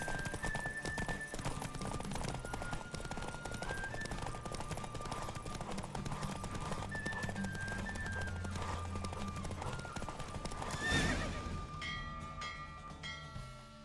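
Horse hooves clip-clop steadily at a gallop during a horse race in The Witcher 3, with game music layered throughout and a swell near the end before it thins out.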